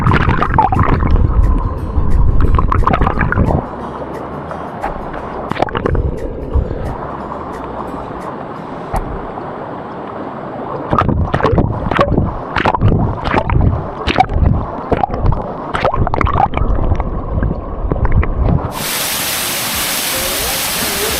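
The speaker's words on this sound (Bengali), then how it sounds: "এখন শীতের সময় তবুও কিন্তু ওয়াটারফলসে ভালোই জল রয়েছে।" A waterfall in Purulia, still well filled in the winter season, rushes with a broad, steady roar. Scattered sharp knocks and rustles, heard close, break through the flow.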